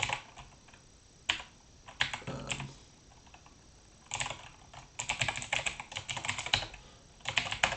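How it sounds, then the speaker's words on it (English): Fast clicky typing on a mechanical computer keyboard, close up, coming in uneven bursts of rapid keystrokes separated by short pauses, with no talking. "I have different keyboards for work, and I use a mechanical"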